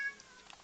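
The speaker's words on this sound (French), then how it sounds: "c'est le chat qui arrive" A cat named Gizmo gives a faint, brief meow or two indoors, soft and distant against a quiet room.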